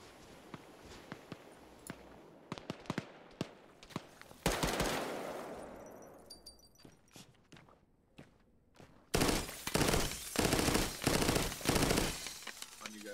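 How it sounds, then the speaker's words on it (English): Gunfire in the ARMA 3 military shooter: scattered sharp single shots crack through the first half, then a loud dense burst of automatic fire erupts near the end, with quieter distant pops between. "They're shooting at somebody."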